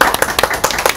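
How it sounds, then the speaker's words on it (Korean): A few audience members at a press conference clap briefly, producing a short burst of distinct, fairly loud hand claps in an uneven rhythm. "박수는 나중에 한꺼번에 해주시면 되겠습니다."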